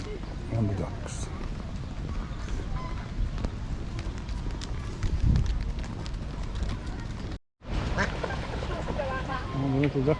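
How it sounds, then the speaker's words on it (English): Ducks quack intermittently in St James's Park, London, amid outdoor crowd noise and nearby voices, with a brief dropout partway through. "And the ducks."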